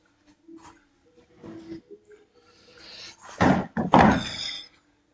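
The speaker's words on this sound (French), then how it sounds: "Je prends une chaise." A chair being picked up and set down outdoors, a few soft scrapes and knocks followed by two louder clattering thumps near the end, with no speech.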